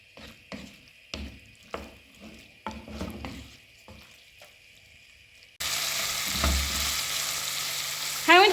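Chicken pieces fry in a single pan, first with a series of close scraping stirs and clinks, then a loud, steady sizzle that fills the rest of the clip without any talking.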